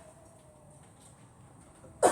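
A single sharp cough bursts out at the very end, loud and close after a quiet stretch of faint room noise.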